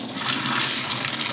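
Dirty, blackened carpet cleaner water poured out in a steady continuous splashing gush, loud and close, with no talking over it.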